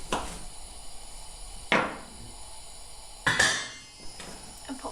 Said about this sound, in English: we've got 8 ears of baby corn, which I'm slicing down the centre and then in half